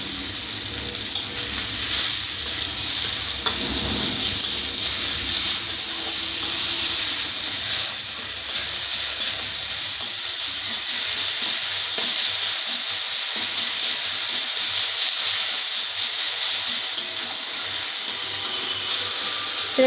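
Chopped chilli, onion and cabbage frying in a pan, giving a continuous bright sizzle with light stirring clicks and scrapes throughout, close up and with no talking.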